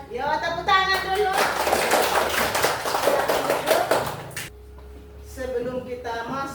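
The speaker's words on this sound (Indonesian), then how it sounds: "Yo, tepuk tangan dulu." Hands clap together in a classroom audience, a dense burst of claps for several seconds that stops abruptly, with a voice talking before and after.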